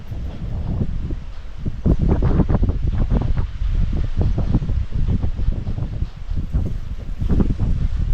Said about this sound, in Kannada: ಮೂರು ಗೇಟ್ ಓಪನ್ ಮಾಡ್ಯಾರ ಹರಿ ಆತೈತಿ ನೀರು